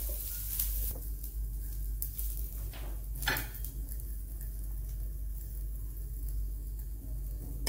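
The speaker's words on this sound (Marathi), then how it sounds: "तर अशा प्रकारे कांदा असा भरपूर छान असा भाजून घ्यायचा आहे।" Onion roasting in a pan makes a soft, continuous sizzle and hiss, with a few faint scrapes and one brief clatter near the middle.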